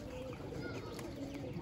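Pigeons at a pigeon-keeping loft coo softly and steadily, close by, over a continuous busy background with a faint voice mixed in.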